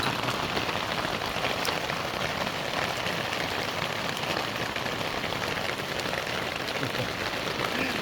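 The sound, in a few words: hailstones bouncing and hitting a camper car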